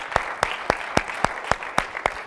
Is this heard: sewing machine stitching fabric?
no